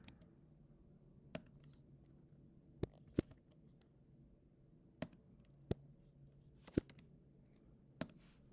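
Keys on a computer keyboard are tapped in scattered, isolated strokes, about a dozen sharp close clicks spread unevenly over a quiet room.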